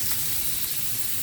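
Buttered salmon sizzles steadily in a hot pan just after being flipped, a close, continuous frying hiss with no talk.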